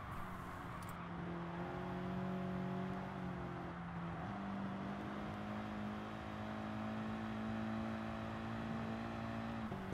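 Car engine in Gran Turismo Sport on the Dragon Trail Seaside II circuit, a steady loud drone whose pitch holds, dips briefly near four seconds, then climbs again as the car pulls through a turn, with no talk over it.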